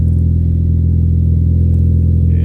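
A Ford ST car engine runs loud and close through an MBRP aftermarket exhaust, a steady deep drone with a slight rise in pitch, no voices over it.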